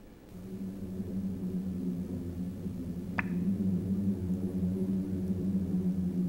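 A deep, sustained booming hum from sand dunes, low and droning, growing slightly louder partway through, with a faint click in the middle.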